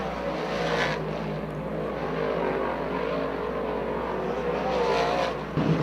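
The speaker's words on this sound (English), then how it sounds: "This will be our final dirt draft hot lap of the afternoon." Dirt-track race cars run hot laps at Bridgeport Motorsports Park during a Short Track Super Series event, a steady engine roar heard from a distance and swelling as cars pass, with no talk over it.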